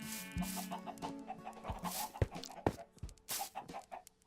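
Chickens cluck in Minecraft, a handful of close, irregular clucks and squawks popping out over quiet game ambience.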